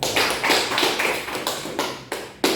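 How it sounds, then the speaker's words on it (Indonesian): A small classroom group claps in applause, several short close bursts of hand clapping one after another with no talk. "Kita beri aplaus."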